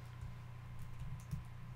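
Computer keyboard typing during a Minecraft build session, a faint run of soft key clicks with a few slightly louder taps, steady under a low background hum with no speech.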